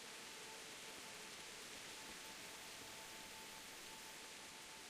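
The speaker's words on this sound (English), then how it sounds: "Still bloody raining." Steady broadband hiss of rain falling in the medieval game Kingdom Come: Deliverance, an even, continuous wash with a faint tonal hum beneath and no breaks across the clip.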